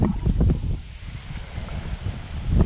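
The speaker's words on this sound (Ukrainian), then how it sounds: "Зараз бокова дуга, дуже сильний вітер" Very strong wind gusting across open water at a fishing spot, roaring and buffeting the microphone in uneven surges for a few seconds, with no voices.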